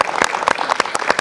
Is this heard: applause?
yes